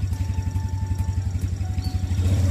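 A motorcycle engine throbbing close by on a rural road, its steady low pulsing beat rising slightly as the throttle is eased open.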